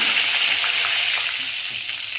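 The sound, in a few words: curry leaves crackling in hot oil with mustard seeds and asafoetida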